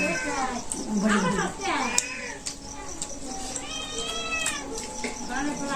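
A cat in a Bangladeshi village home meows repeatedly in drawn-out, rising and falling cries, close and fairly loud, while people talk nearby.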